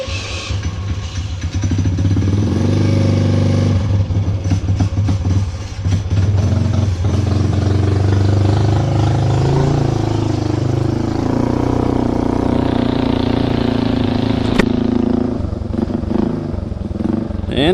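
A street legal mini bike's small engine starts up and settles into a loud, close idle, a rough, steady putter with some clatter and a brief revving partway through.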